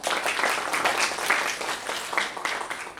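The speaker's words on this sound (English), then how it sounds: "A round of applause for her, please." Applause from a Toastmasters meeting audience, a steady round of clapping from a modest crowd lasting throughout, with no talk over it.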